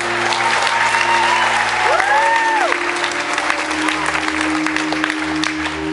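An audience claps in a civic center crowd, loud continuous applause with a few whistles and whoops rising through it, sustained throughout with no speech.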